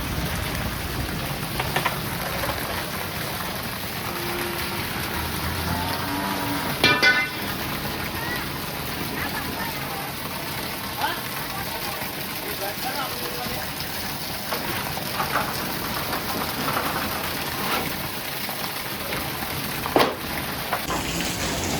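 Heavy rain mixed with hail pours down steadily and loudly from start to finish, a dense continuous wash with a few sharper knocks of hailstones striking nearby surfaces.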